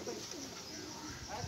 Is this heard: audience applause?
no